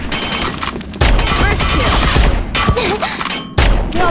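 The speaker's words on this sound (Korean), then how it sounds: "그럼 수류탄 투척할게." Grenade thrown and exploding during a match in the online shooter Sudden Attack, heavy thuds and bursts of crashing gunfire close up, with sharp cuts between loud chaotic stretches.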